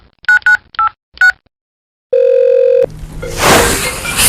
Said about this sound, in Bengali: ঠিক আছে, ফোন করে দেখছি